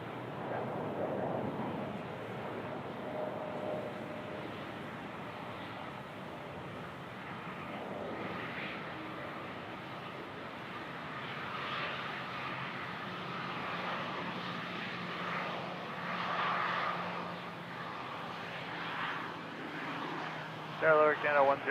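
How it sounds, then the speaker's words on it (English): KLM Boeing 787-9 airliner at Toronto airport, a broad, steady jet roar that swells and fades a little over about twenty seconds, heard from a distance with radio chatter and voices mixed in. "here's the KLM 787-9. Headed to Amsterdam."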